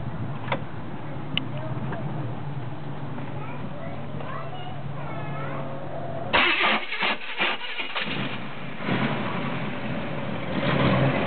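A 1990 Pontiac Trans Am engine cranks and catches on its first start-up, a steady low whirring that then rises into a louder, uneven rumble as it fires, with voices talking nearby.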